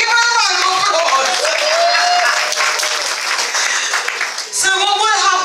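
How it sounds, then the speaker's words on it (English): An audience at a black-tie gospel ministry dinner breaks into sustained applause, dense clapping filling the room for several seconds with a brief dip near the end before picking up again. "Come, give her a round of applause."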